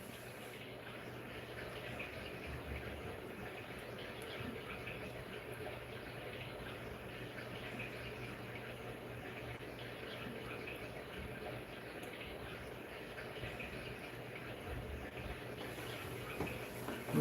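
A fish tank gives off a steady, low bubbling and trickle of water, faint and continuous in the background of a room.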